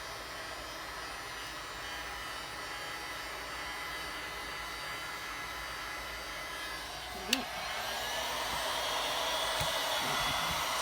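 Heat gun warming resin: a steady, loud, even blowing hiss that runs through the whole stretch with no talking, marked by a single brief click partway through.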